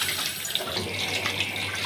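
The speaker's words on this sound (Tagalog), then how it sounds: "maghuhugas tayo ng plato" Tap water runs steadily into a kitchen sink for washing dishes, a continuous close hiss and splash with no talk.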